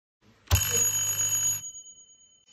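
Electric warning bell on an electrical control panel in a school workshop, sounding before a motor starts in delta connection; a single loud ring lasting about a second, with a ringing tone that fades afterward.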